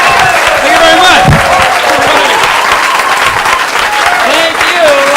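Loud studio audience applause for comedian Chris Zito, a dense sustained wash of clapping and some cheers lasting the whole stretch, with a voice faintly audible over it.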